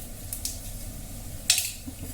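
Mustard seeds and jeera sizzle in hot oil on a grill pan, a steady close frying hiss broken by a few sharp crackles and spits, the loudest pop landing midway, with no one speaking.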